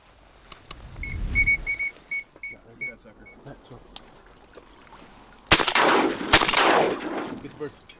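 Shotgun blasts during a duck hunt at a California refuge, a loud sharp report followed by a second close shot, with whistled calls and low talk earlier.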